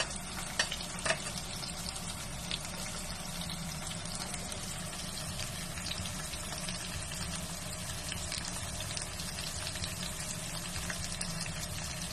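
Chicken pieces and thick-cut sweet potato slices sizzle steadily in hot oil, a continuous crackling fry with occasional sharper pops, close and even throughout with no talking.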